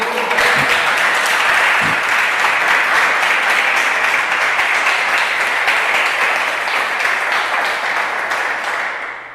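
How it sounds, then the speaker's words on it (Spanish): A church congregation applauds for Jesus Christ during a sermon on spiritual maturity. The clapping is loud, dense and sustained for about nine seconds and fades slightly near the end. "¿Alguien tiene palmas para Jesucristo?"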